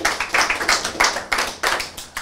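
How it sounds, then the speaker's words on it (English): Small audience applauding at a Final Cut Pro X and Resolve workflow presentation, a few distinct, close hand claps in an uneven rhythm rather than a dense crowd roar. "Give an applause to Sam Mestman."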